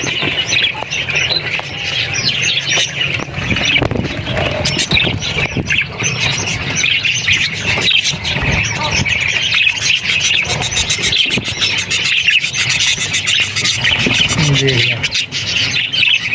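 Budgerigar chicks in a breeding box give repeated shrill squeals and squawks in bursts, close and fairly loud, while a person talks over them.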